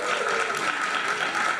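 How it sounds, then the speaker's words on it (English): A loud, dense round of audience applause at a startup accelerator demo day, continuous crowd clapping filling the short stretch. "one more big round of applause for all of our startups"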